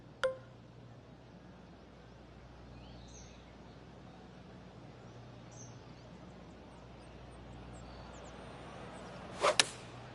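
A golf ball struck in the PGA 2K25 video game: a faint click near the start, then a sharp whooshing strike near the end over steady crowd and course ambience.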